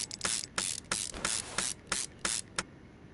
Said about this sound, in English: Put the exhaust manifold on